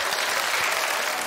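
A burst of dense, loud audience applause at a comedy roast, an even wall of clapping that holds steady for a moment.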